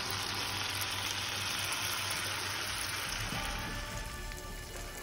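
Scallops searing in a very hot cast iron skillet, a steady close, dense sizzle and crackle of hot fat that holds evenly throughout with no talk.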